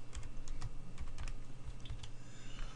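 Keys clatter on a computer keyboard at a command prompt, a steady run of close, crisp taps with brief pauses between bursts, heard alone with no talking.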